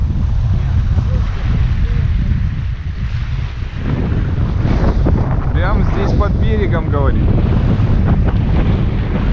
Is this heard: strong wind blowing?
yes